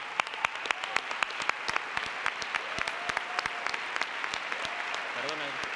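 Applause from the audience at the 1992 Goya awards ceremony, with distinct sharp claps over a steady bed of clapping that carries on throughout, and a voice speaking briefly near the end.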